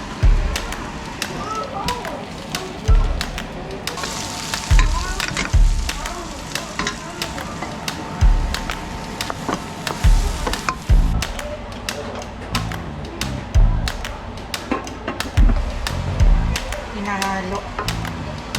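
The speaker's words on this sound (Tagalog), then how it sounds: "Hinahalo." Sliced upo (bottle gourd) sautéing in a pan for a shrimp dish, a spoon scraping and stirring in repeated strokes over a steady close sizzle, with occasional metallic taps and a voice speaking now and then.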